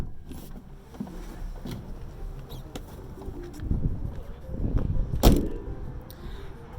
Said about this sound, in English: Doors close really nice.